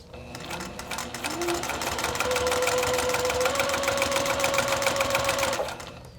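A sewing machine stitches across a faux leather strap with a rapid, steady run of needle strokes that holds close and loud for several seconds before stopping. No one speaks.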